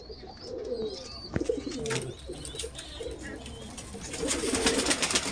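Fancy pigeons kept in separate compartments of a large loft coo repeatedly up close, with soft overlapping calls and faint chirps.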